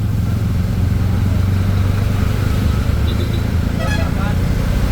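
Road traffic on a rainy route, steady rumble of cars and motorcycles passing close, with a continuous low engine drone and wet road hiss throughout.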